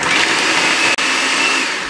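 An electric chopper runs continuously, whirring through onion and green chilies with a steady motor drone and one brief dip midway.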